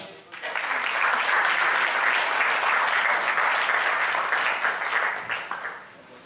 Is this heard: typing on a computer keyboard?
no